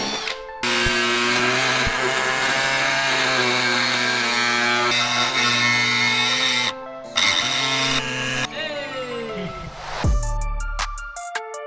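A power tool cuts a hole through the transmission tunnel of a Holden car during a turbocharged Holden 304 V8 build, its loud steady whine running for several seconds before stopping and changing pitch.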